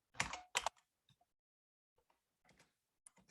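Quiet computer keyboard typing while drafting in CAD software, a few close, soft clicks in short bursts separated by pauses, with no voices.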